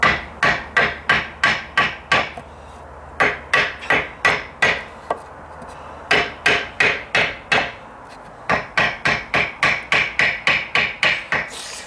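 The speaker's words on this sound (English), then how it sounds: "Hammer probably works just as well." A hammer taps the wood of deck stairs under repair in steady rapid runs of sharp knocks, close and loud, pausing briefly between bursts.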